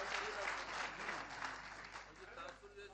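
Audience applause at a Punjab mushaira poetry gathering in Patiala, a dense, continuous clatter of many hands clapping together, loud and sustained throughout.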